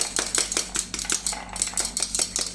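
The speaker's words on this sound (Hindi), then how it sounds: "ये चम्मच लो बड़ा और इसे धीरे धीरे इस तरह से करते जाइए" A large spoon strikes a halved pomegranate again and again to knock the seeds loose, quick even taps with a hollow knock, close up and alone.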